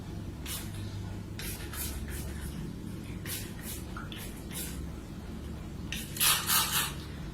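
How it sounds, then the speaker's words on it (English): Several short, soft hissing bursts from a spray bottle spritzing water onto long curly hair in quick succession, with a quiet rustle between them and a louder double burst near the end. "So I'm going to use a spray bottle."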